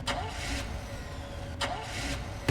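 A video game generator starting up: an engine-like mechanical sound cranks and turns over in two bursts against a steady electronic hum, with brief pauses between.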